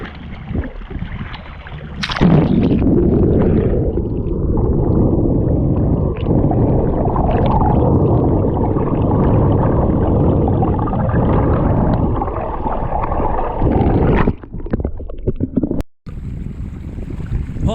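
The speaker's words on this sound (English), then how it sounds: "Finally, we're sailing proper. Yeah, we got some wind." Sailboat under way in a fresh breeze on the Solent, a steady loud rush of wind and water noise running throughout with a brief gust-like burst near the start and a short dropout near the end.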